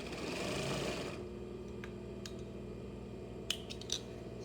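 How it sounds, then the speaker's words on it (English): A Singer industrial sewing machine runs a short burst of reverse stitching, a steady close whirring that stops after about a second, followed by quiet hum and a couple of small clicks. "So only a few stitches backward, and then run it back out like you would end a normal seam."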